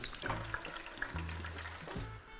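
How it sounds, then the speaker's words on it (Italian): Veil-thin zucchini slices fry in hot oil as chips, giving a steady close sizzle and crackle with a few louder pops and no talking. "Ci siamo, cominciamo a friggere le zucchine."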